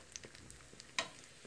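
Nutella-filled beignets frying in hot oil give a quiet, steady sizzle dotted with small pops and one sharper crackle, with no talking.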